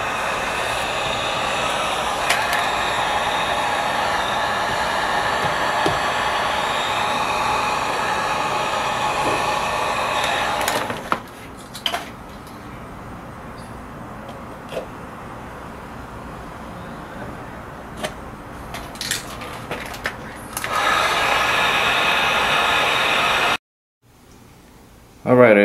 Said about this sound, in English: So now I'm going to use the heat gun to shape the vent and make the vinyl go